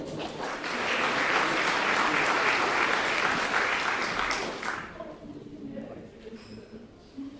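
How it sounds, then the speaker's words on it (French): Audience applause at a French professional conference welcoming a guest psychology professor, a dense, loud burst of clapping that swells for about five seconds and then fades, with some voices heard as it dies away. "Et on peut l'applaudir."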